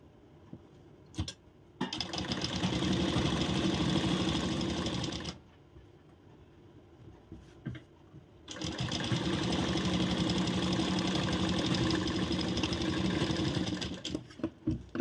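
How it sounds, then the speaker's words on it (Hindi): A sewing machine stitches blouse fabric laid on pasting paper, running steadily for about three seconds, pausing briefly, then running again in a long continuous whir close to the listener. "अब बॉटम पे भी हम सिलाई चला लेंगे।"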